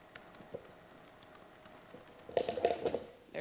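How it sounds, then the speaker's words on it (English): A quick burst of typing on a computer keyboard, with a few faint scattered taps at first and then a denser, louder flurry of key clicks near the end in a quiet room. "so I can type this in real quick"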